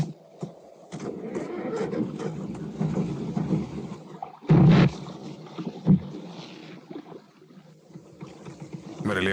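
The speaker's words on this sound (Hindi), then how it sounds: "इंजन चालू करो।" A boat engine starts and runs out at sea with an iceberg ahead in an action film, a low rumbling drone with a sharp loud burst partway through over wind and water.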